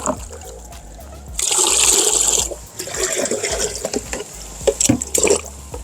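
Hot water from a geyser is poured into chilled water in a container, a close, steady splashing pour that swells for a second or so and then trails off into irregular trickles and drips.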